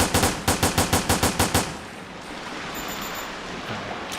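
Rapid burst of about eight loud gunshots in quick succession from the video game Resident Evil: Dead Aim, then ringing quiet with a low ambient hiss.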